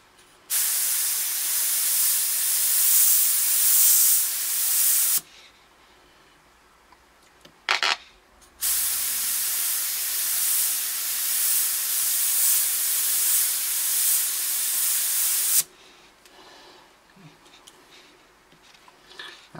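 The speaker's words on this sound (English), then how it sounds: "Let's open it right up and see where the spray pattern is." A Badger airbrush, the Renegade Krome, Sotar 20/20 or 100 G, sprays wide open in two long loud steady hissing bursts with a short blip between, separated by quiet gaps.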